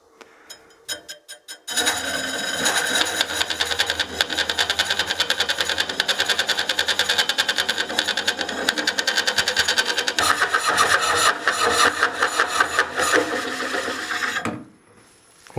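A wood lathe spinning at about 300 RPM drives a Woodcut Bowlsaver Max 4 coring tool into a bowl blank, giving a steady loud buzzing chatter that runs continuously for several seconds before it stops.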